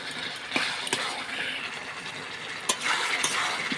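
Steady sizzling hiss from a hot pan as potatoes fry, broken by a few sharp scrapes and clinks as they are stirred with a utensil.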